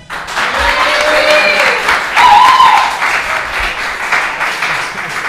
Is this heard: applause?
yes